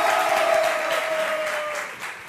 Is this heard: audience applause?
yes